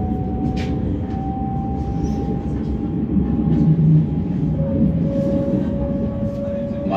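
Interior of an S-Bahn Mittelelbe S1 regional train in motion, a steady low rumble of wheels and traction with faint whining tones and occasional rattles, heard from the passenger cabin.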